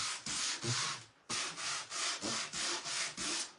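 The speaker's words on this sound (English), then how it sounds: "So I'm just gonna give it a light sanding" Sandpaper lightly rubs over painted wood lettering on a porch board in repeated back-and-forth strokes, about eight rasping passes with a brief pause after the first few, close and clear.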